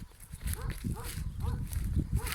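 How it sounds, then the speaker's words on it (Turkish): A dog barks from up the hill above a rural village pasture where sheep and lambs graze, giving a few short, distant barks under someone talking outdoors. "Yukarıda bir köpek sesi geliyor."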